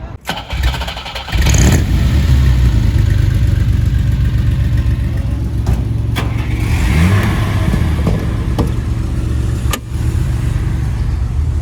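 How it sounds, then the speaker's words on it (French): A Porsche GT3 RS engine fires up loudly and close by on a Paris street, then holds a throaty idle with sharp revs punctuating it. "qui arrive en GT3 RS aussi"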